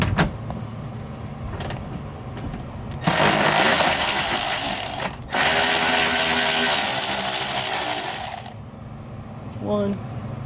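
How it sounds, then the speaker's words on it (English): Power tool whirring as 7mm hex bolts are driven out on a 2016-or-later Cadillac CTS-V license plate housing, with two sustained loud bursts separated by a short pause and quieter clicks and handling noise around them. "These hex bolts here are 7mm, so I'm gonna go ahead and remove all 4 of them."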